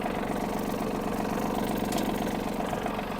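Yanmar F-200 mini tractor engine running steadily with the power take-off engaged in first speed, driving a tiller; a continuous, loud, even mechanical drone throughout.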